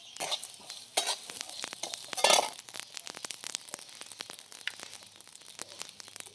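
Dal, cinnamon, cloves and poppy seeds dry-roasting in a pan for a mutton dish, with a steady close scrape of stirring, clinks of the spoon against the pan and a soft sizzle throughout.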